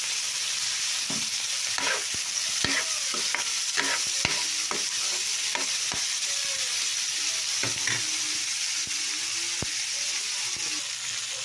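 Pork frying in a pan with a steady, loud sizzle, broken by sharp scraping clicks as it is stirred.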